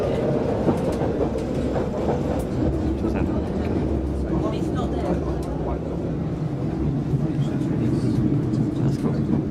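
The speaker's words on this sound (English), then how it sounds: "Mind the gap between the train and the platform." A London Underground train runs between stations, its steady rumbling roar and wheel clatter filling the whole stretch at close range; faint voices can be heard beneath the train noise.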